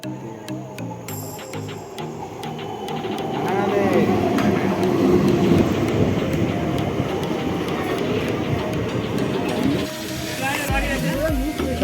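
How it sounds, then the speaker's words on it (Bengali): A crowded passenger train pulls into a busy station during a Magh Purnima fair at Bagnan, its rumbling rolling roar building and lingering, with people talking nearby over it. "অনেকক্ষণ অপেক্ষা পর আমাদের ট্রেন এসে গেছে।"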